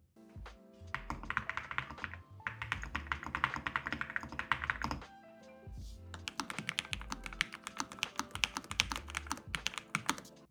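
Fast, light typing on a slim, low-profile Lofree Flowlite keyboard, close-up, with dense clicky keystrokes in two bursts separated by a short pause and no talking.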